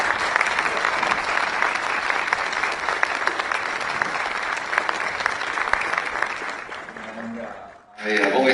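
An audience at McDaniel claps loudly and steadily for a speaker, a dense sustained applause that fades out near the end before a voice begins speaking.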